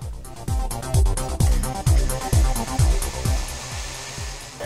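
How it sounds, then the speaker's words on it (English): Blade 350 QX quadcopter motors spin up with a loud electric whine and whirring propellers, a rhythmic pulsing flutter repeating about twice a second, close and steady without any voices. "That should fire up the 350QX"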